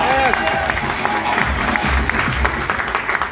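Audience applause for a speaker at a DXN business motivational seminar, a dense, steady patter of many hands clapping close by throughout, with voices mixed into the crowd noise.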